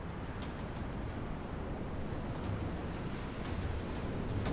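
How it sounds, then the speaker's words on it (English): Wind blows steadily over open Arctic ice, a continuous low rushing roar with buffeting gusts, loud and unbroken with no other sounds. "Only the wind moves, carrying ice dust across the surface."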